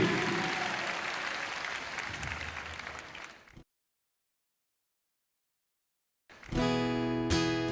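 Applause from a crowd at a Burmese music performance fills the first half, steady and dense, then cuts to silence before music returns.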